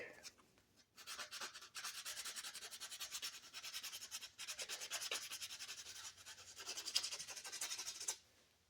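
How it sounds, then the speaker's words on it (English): Steady back-and-forth rasping of sandpaper on wood, close and continuous for several seconds, in a fast even rhythm before stopping abruptly. "Lots of sanding."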